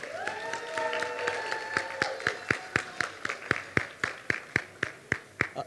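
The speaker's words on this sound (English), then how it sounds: "How about another round of applause for our lovely bride and groom here?" Wedding guests applaud the bride and groom, a swell of crowd clapping and cheering that settles into slower, evenly spaced loud claps near the end.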